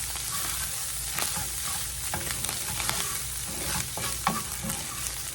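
Flour sizzles in regular canola oil as it is stirred in a pan, giving a dense, steady frying hiss with scraping stir strokes, close by and with no talking.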